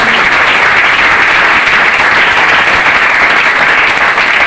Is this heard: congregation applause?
yes